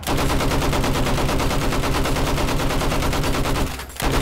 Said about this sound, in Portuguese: Mas é muito tiro, cara,